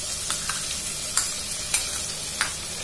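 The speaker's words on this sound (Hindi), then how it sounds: "अब हम डालेंगे इसके अंदर प्याज। प्याज को हम लाइट गोल्डन फ्राई कर लेंगे।" Chopped onions frying in a pan after cumin seeds for dry moong dal, a steady dense sizzle close by with a few sharp clicks of a spatula stirring.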